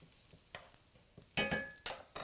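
Slivered garlic sizzles and pops as it hits a hot pan while being stirred, with short bursts of crackling frying between quieter moments, heard close up with no talking.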